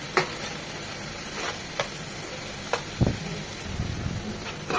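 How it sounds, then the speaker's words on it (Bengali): Thinly sliced tomato frying with spice paste in a pan: an even, close hiss of sizzling oil, punctuated by sharp spoon clicks and scrapes as it is stirred. "এটাও মশলার সাথে একটু কষিয়ে নেব, তার যেন টমেটো কাঁচা ভাবটা চলে যায়।"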